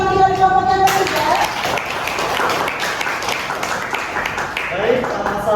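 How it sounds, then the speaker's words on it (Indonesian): Applause from a classroom audience for a third student group, dense broadband clapping throughout with speech-like noise mixed in. "Oke, tepuk tangan dulu untuk yang dari kelompok yang ketiga."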